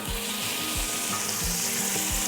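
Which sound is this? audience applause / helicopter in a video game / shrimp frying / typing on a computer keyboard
shrimp frying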